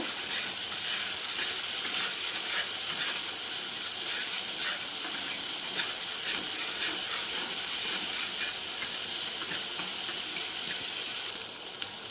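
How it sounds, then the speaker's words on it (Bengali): Spices fry in oil in a pan with a loud, continuous hiss that holds steady the whole time, close by and with no voices. "একটু মশলাটাকে ভালো করে ভেজে নেব।"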